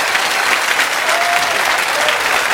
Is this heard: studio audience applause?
yes